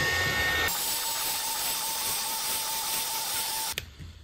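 A heat gun or hot-air blower warms a dummy iPhone to loosen its glued back: a loud, steady whooshing hum with a faint whine runs without a break for about three seconds, then cuts off abruptly.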